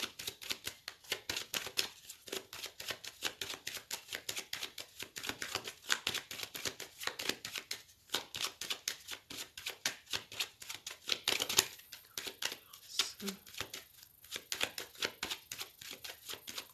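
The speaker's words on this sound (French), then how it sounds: "Je vais faire un tirage avec le tarot que j'utilise tous les jours pour les consultations." A tarot deck is shuffled by hand for a reading. It gives a long, close run of rapid papery riffles and flicking clicks, uneven in rhythm, with no voices.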